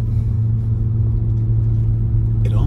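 Tesla Model Y driving in cold weather: a steady low hum and buzz with road rumble, constant and fairly loud inside the cabin.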